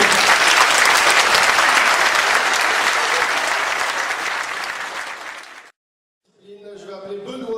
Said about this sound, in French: Nous pouvons d'ores et déjà les applaudir bien fort et place au spectacle.